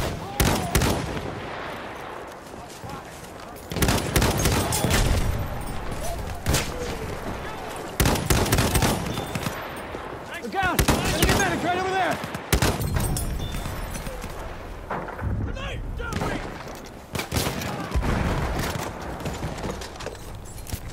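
Machine gun fire in a Battlefield video game during a Conquest match, with repeated loud bursts of rapid shots coming and going across the mix, mixed with other battle noise and shouting voices.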